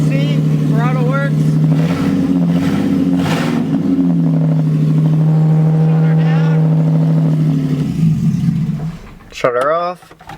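A Toyota 2JZ-GE engine swapped into a Nissan S14 idling loudly, a steady low drone with a couple of brief throttle blips early on, dropping off near the end as someone speaks over it.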